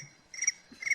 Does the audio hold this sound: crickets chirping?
yes